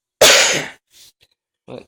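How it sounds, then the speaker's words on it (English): A single sharp, loud cough from a man with a cold bursts out close up, followed by a brief quiet breath and the start of a spoken word. "coming over a cold, so excuse me for my coughing"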